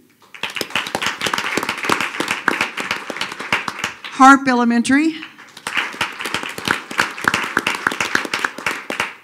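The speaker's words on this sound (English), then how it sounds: "I should have had you hold your applause, but I'm kind of liking this." Steady audience clapping fills a school board meeting for Springdale Public Schools in November, continuing while a man announces elementary school names over the crowd.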